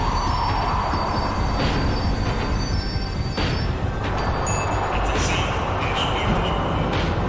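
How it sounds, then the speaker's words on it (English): Tram slowing to a stop in Max Payne 3, a steady loud rumble of rail wheels and car noise with faint squeals and a heavier clunk midway, continuous throughout. "The tram was slowing down, and I'd only just gotten on board."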